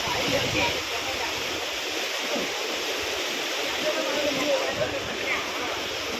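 Canal water flows in a steady, full rush where people gather to bathe during a Holi outing, with a constant broad wash and faint voices in the background.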